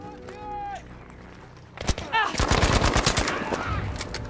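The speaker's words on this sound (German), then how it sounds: "es ist kein Hitman, es ist Battlefield, das heißt, du darfst schießen" Rapid automatic gunfire in the video game Battlefield 5, loud bursts of fire erupting after a quieter stretch and continuing densely to the end, with voices talking over the action.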